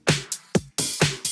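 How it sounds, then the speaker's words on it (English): Top kick drum isolated from a dance track, a punchy thumping attack with bright clicky top end, several hits in quick succession close and loud, no talk. "this is just a top kick."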